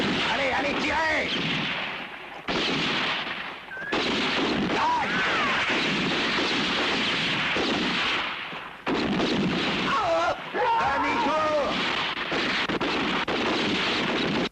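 Gunfire rings out in a French-dubbed spaghetti western, loud repeated shots packed densely through the scene amid shouted voices.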